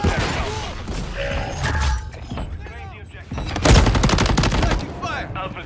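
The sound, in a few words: gunfire in the video game Modern Warfare III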